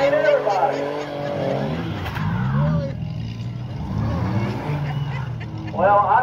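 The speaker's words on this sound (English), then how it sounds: "The pace car's coming back." Pace car and race cars circle the M40 Speedway during a Valentine Crush race, their engines droning and revving beneath continuous commentary from people talking nearby.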